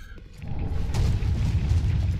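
A deep booming explosion attack from a boss in Dark Souls 3 swells after a brief lull and rumbles loudly for about two seconds.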